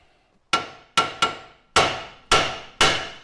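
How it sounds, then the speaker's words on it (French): A hammer taps on the ball joint of a Mitsubishi Colt's front suspension, six sharp metallic strikes in an uneven rhythm, each ringing briefly and decaying, close and clear with no talk. "Là on va venir taper ici, pas comme des bourrins, juste ce qu'il faut pour décoller la rotule"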